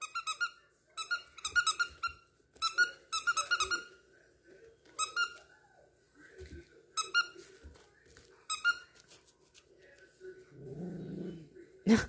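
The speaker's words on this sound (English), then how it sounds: "it's a squeaky toy" A dog's squeaky toy squeaks in repeated bursts of high-pitched chirps during play indoors, mixed with a dog's growls and a person speaking, ending in a loud clatter.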